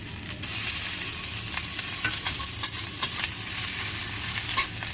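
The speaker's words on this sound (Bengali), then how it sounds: "এখন রসুন বাটা আর আদা বাটাটা দিয়ে দেবো" Garlic and ginger paste sizzling in a pan for a village egg curry: a steady, close frying hiss runs throughout, punctuated by several sharp scraping clicks of stirring.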